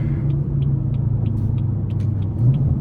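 A BMW 340i running on race gas rumbles with a deep, steady engine drone from inside the cabin, accompanied by faint regular ticking.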